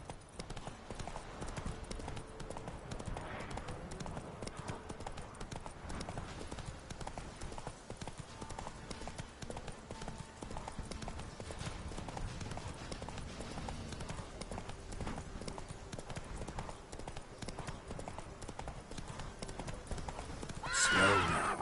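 Roach the horse gallops in The Witcher 3, hooves beating a fast, steady clip-clop rhythm for a long stretch, ending with a louder snort or whinny.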